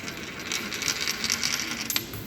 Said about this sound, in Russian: запускай монетку